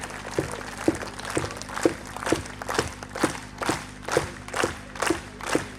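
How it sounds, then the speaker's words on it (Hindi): An audience at an International Yoga Day 2022 celebration in Rose Garden, Ludhiana claps together in a steady, even rhythm of about two claps per second, a crisp repeated beat with no voices over it. "तालियां बजती रहनी चाहिए अच्छे से, वो भी रिदमेटिक में।"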